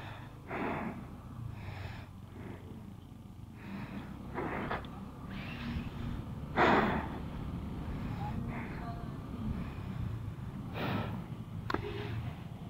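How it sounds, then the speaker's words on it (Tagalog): A person pants heavily on a hot afternoon, with repeated breathy gasps and snorting exhales coming in uneven bursts, close and fairly quiet against faint background noise. "Ay, hingal."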